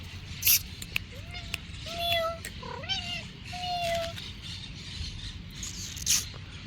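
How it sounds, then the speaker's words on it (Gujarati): A cat meows several times in rising, drawn-out calls, close by, with light background noise and a couple of sharp clicks. "આ પેલું મીંદડું છે જેને મને પકડવા દીધું"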